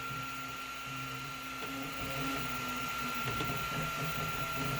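A Flashforge Adventurer 5M 3D printer runs a high-speed print, giving off a faint continuous whine with a steady high tone and shifting buzzy stepper-motor chatter beneath.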